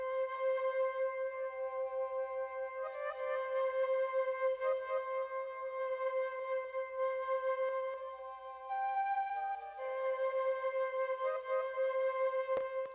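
Glitchy spectral delay from Ableton Live 11 smearing a sustained synth chord into layered, shifting harmonic echoes, steady and loud throughout with a brief click near the end, no voices.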